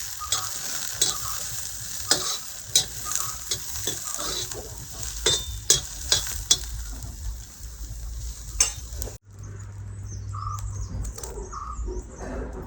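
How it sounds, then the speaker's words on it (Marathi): Whole spices sautéed in a pan for Malvani-style chicken, with a steady sizzle and repeated stirring scrapes that break off abruptly, leaving a quieter stretch with a low hum and faint chirps. "आता हे व्यवस्थित ना परतून घ्यायचं"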